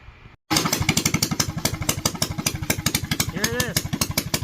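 Tecumseh 196cc mini bike engine with open exhaust starts after a brief silence and runs with a loud, rapid, pulsing bark, a quick rev swelling the pitch midway, close and unaccompanied.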